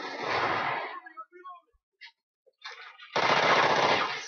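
Rapid automatic gunfire in Call of Duty: Ghosts multiplayer, two loud sustained bursts at the start and end with a quiet gap of small clicks between them.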